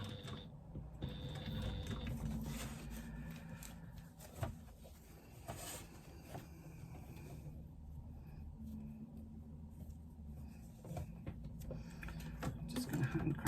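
Sewing machine hand-cranked slowly over a zipper in uneven bursts, with mechanical clicks and whirring as the needle is worked through thick material.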